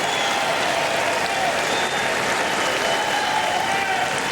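Tennis fans at a 2013 ATP Miami third-round match between Blake and Ramos applaud and cheer, a dense steady roar of clapping filling the stadium at full loudness throughout.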